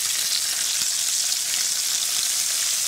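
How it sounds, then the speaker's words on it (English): Bacon frying in a pan during van camping in Appalachia, a dense continuous hiss and crackle of sizzling fat, close and steady without speech. "I think this bacon's ready for a flip"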